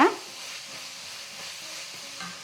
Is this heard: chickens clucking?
no